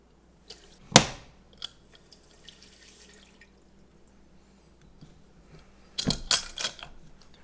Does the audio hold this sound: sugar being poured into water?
yes